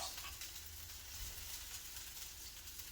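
Thinly sliced garlic sizzling in olive oil, a soft, steady frying hiss with faint crackle throughout, low in level and with no talking.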